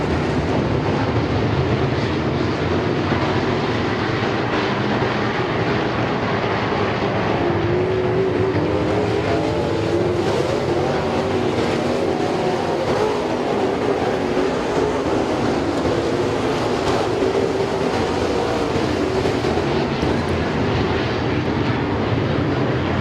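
Race cars at the Speedzone roar around the track in a steady, dense engine drone that rises and falls continuously as cars pass, loud and unbroken with no talking.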